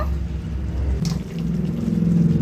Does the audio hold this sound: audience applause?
no